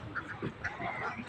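Ducks near a dried-up village river ghat lined with moored boats give a few short honking quacks over a light outdoor background, with no talking.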